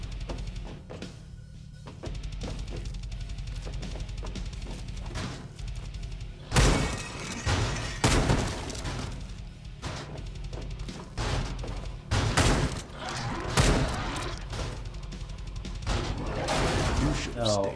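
Shotgun blasts in the video game Redeemer, several loud broadband bangs spaced a second or two apart over a steady game music bed, with heavy low thumps and sharp cracking tails.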